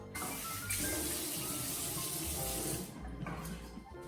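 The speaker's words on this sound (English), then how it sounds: "Now that I've scrubbed as much as I can, I'm gonna rinse my face off." Running tap water splashing as someone rinses their face at a sink, a close, steady rush that briefly shifts and dips near the end as hands move through the stream.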